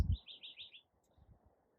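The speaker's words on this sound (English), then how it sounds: "this beautiful garden with beautiful bird sounds" Birds chirp and sing in a garden, a quick run of bright repeated tweets near the start, then quiet with faint low rustling.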